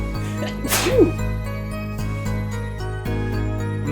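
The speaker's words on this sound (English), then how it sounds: "I'm not sure if there's another sneeze coming." A single sharp sneeze bursts out near the start and stands over steady, sustained electronic music.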